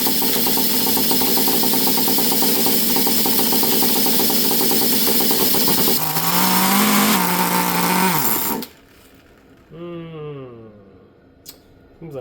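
A rebuilt Traxxas T-Maxx nitro RC truck engine runs loud and buzzy for about eight seconds, revs briefly, then cuts out abruptly, leaving a quieter whining spool-down and a few clicks.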